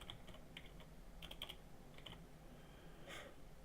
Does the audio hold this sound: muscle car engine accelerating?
no